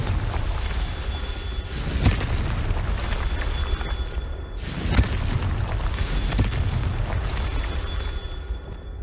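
Confringo spell explosions in the Hogwarts Legacy video game, a run of sharp booming blasts over a dense rumbling background, the loudest bursts spaced a few seconds apart.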